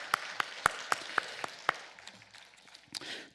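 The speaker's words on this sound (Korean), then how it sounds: "하나님께 감사와 영광의 박수 올리시기 바랍니다" Church congregation clapping in praise as a pastor is welcomed to the pulpit: a handful of sharp, distinct claps at a steady pace, then a softer, scattered patter of clapping that fades into quiet room noise.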